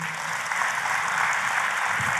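Church congregation applauding during a sermon, a steady wash of many hands clapping together that holds at an even level for the full stretch.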